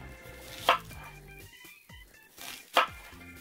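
Onions being sliced into thick discs with a knife while burger meat is on the grill. Two distinct, crisp cuts land about two seconds apart over a quiet, faintly humming background.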